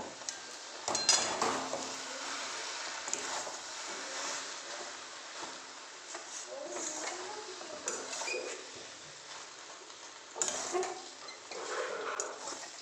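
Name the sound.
fried soybean and potatoes stirred into spice masala in pan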